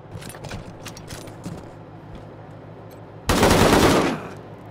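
Gunfire in the video game Wasteland 3: a few scattered sharp shots and mechanical clicks, then a loud, sustained burst of automatic fire close by that lasts about a second before cutting off.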